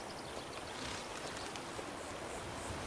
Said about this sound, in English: Okay, here's the creek.